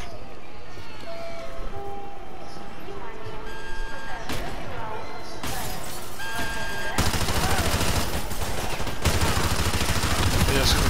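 Gunfire aimed at police in the Call of Duty: Modern Warfare 2 campaign, with rapid bursts and a dense barrage of shots that grows heavier toward the end, while players talk over it.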